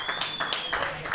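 Crowd applause fills a Winter Madness bracket match between Colby White and Steve Leonard, steady clapping at moderate distance with several louder bursts throughout.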